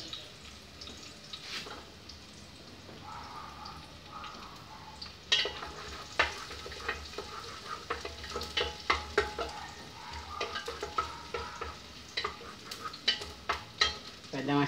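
Beef searing in a pan with onion, a steady low sizzle through the first seconds, then louder crackling and stirring scrapes from midway on, close by with no talk.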